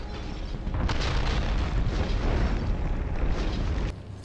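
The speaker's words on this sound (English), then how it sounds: "I dodged 2 grenades." Grenade blasts go off in Resident Evil 4, a deep booming explosion swelling and rumbling for several seconds before cutting off abruptly.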